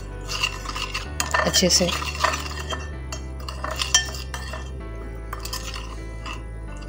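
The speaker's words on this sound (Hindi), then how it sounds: "इस मसाले को हम लोग मिक्स कर लेंगे" A spoon clatters and scrapes against a bowl while spice masala for chicken nachos is stirred and mixed, with irregular clinks and wet scraping, close and moderately loud, and a brief word spoken.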